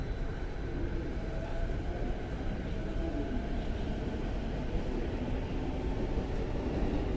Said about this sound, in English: So here we have a Chuo Line train heading towards Takao